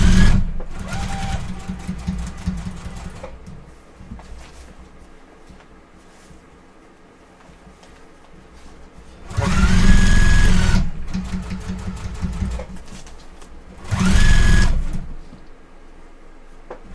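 A sewing machine stitches long quilt seams in loud bursts of rapid mechanical whirring, running for a few seconds, pausing, then starting again twice more, with quieter handling noise in between.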